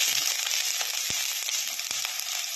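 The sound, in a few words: onion and green chillies frying in hot oil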